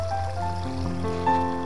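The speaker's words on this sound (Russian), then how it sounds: "туда идет вот эта вода, стекает" Water trickling and flowing steadily down a drainage channel in the countryside near the village of Oboronnoye outside Sevastopol, heading toward a lake below; a continuous close babbling stream with no voices.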